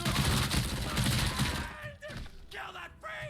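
Micro SMG gunfire in the video game Robocop: Rogue City, a dense loud burst of rapid shots that gives way to game sounds and a voice over the top.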